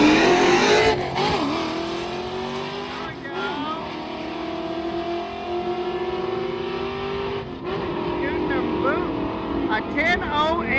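A drag racing car, a returning giveaway car running in a 10-0 class, roars steadily at a drag strip throughout, loud and sustained with engine tone shifting as it makes a pass, crowd or commentary voices underneath.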